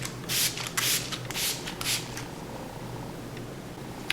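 Smashbox primer water setting spray misted onto a face in several quick hissing bursts, with a soft low hum underneath.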